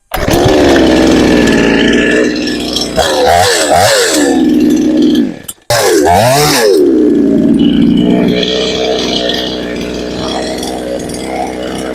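A 20-inch gasoline chainsaw roars loudly nearby, its engine revving up and down in surges, cutting out briefly, then restarting and settling into a steady idle.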